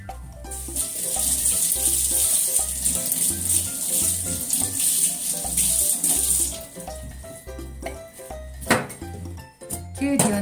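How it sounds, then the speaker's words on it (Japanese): A cucumber being washed in a kitchen sink under a steady stream of running tap water, with the flow hissing continuously for about six seconds, then handling clatter and faint background music. "きゅうりは1本洗いますね。"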